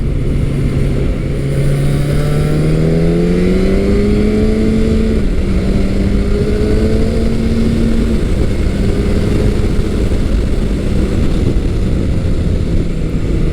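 A stock-exhaust naked motorcycle rides past at speed, a loud steady engine drone rising and falling in pitch through gear changes, quiet for its class, with no talking.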